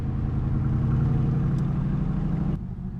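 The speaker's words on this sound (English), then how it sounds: "This resto mod has got a modern 7 litre Corvette engine in it." A Corvette Stingray C2 restomod with a modern 7-litre Corvette V8 runs with a deep, steady rumble that swells slightly, then drops to a quieter idle near the end.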